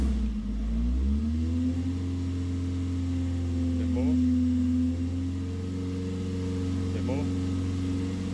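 A Ford Fiesta XR2 engine fitted with throttle bodies hums steadily, its revs climbing and settling, while a person speaks briefly over the drone.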